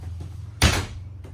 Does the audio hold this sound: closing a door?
yes